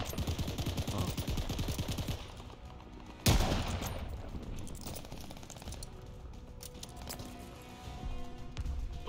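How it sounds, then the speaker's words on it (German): Rapid bursts of automatic gunfire and heavy impacts from the video game Call of Duty Vanguard, set in Stalingrad, fade into a lingering battle din with scattered shots. "Wir werden von oben beschossen!"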